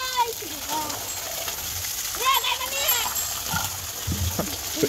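Water splashes and gushes steadily while a cow is being given water in a village setting, with a child's and adults' voices talking over it.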